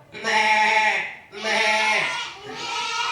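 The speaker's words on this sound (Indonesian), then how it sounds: "Seorang anak muda bernama Uwais yang tinggal di Yaman menggembala domba." Sheep kept by a young shepherd in Yemen bleat in three long, loud, wavering calls close by, with only brief gaps between them.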